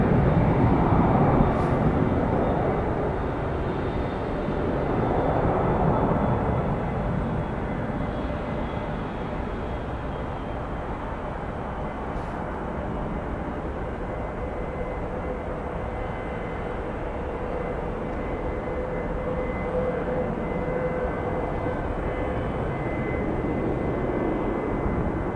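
An aircraft lands on the runway at Detroit Metro Airport, a sustained broad engine roar that starts strongest and then settles into a long, steady rumble at moderate distance, with no voices.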